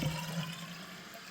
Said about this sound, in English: Just sounded like the toilet was flushing there.